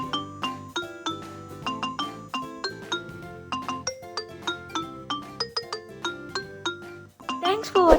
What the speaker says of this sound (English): when the green flag is clicked, play sound birthday until done